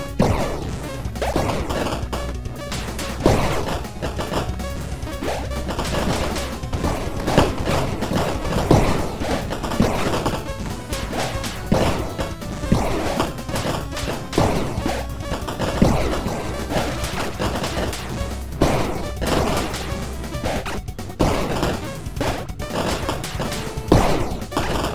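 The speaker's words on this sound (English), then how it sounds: "I can just put a bunch of them out and then detonate them." Sticky mines detonating on an enemy in the video game Bleed, a relentless barrage of loud crashing blasts and thuds over a busy game soundtrack, explosions overlapping continuously throughout.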